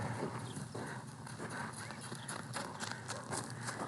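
A donkey's hooves clip-clop steadily during a clicker training session, with continuous close footfalls over outdoor background noise.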